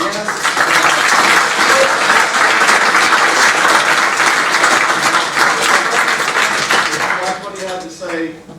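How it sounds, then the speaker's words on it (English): Audience applause at a conference talk at ProtoCon 2016, a dense, loud wash of many hands clapping that holds steady for several seconds before thinning out at the end. "let's give a big round of applause"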